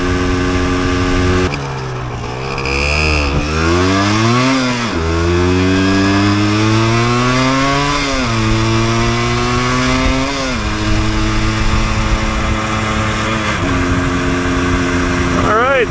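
A 1988 Yamaha DT200 two-stroke enduro motorcycle ridden on wet winter pavement: a buzzy, close engine climbs through repeated rising revs as gears change, with a voice talking over it.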